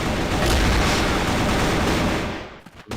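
Sniper rifle fire in the CrossFire competitive shooter, a dense, loud burst of gunfire filling most of the moment before cutting off abruptly into quiet with a couple of faint trailing pops.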